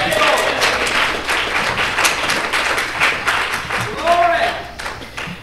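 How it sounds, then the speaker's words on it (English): A church congregation at a Seven Last Words of Christ program claps steadily in praise, a dense, continuous patter of many hands with voices calling out over it. "Give God a hand clap of praise."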